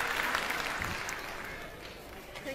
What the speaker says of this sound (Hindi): दोनों के लिए पहले बहुत सारी तालियां हो जाए